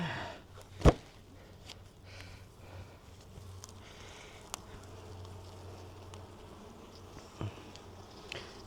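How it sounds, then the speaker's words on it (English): Honey bees hum faintly from an 8-frame Langstroth hive during a spring inspection, a low steady drone with a few soft knocks and breaths close by. "We got 5 seams of bees, so I think we're good."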